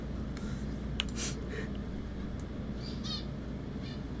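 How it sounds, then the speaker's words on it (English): A bird calling indoors with harsh crow-like caws, a few short cries standing out over a steady background hum, fairly faint and with no talking. "Is the bird in my room?"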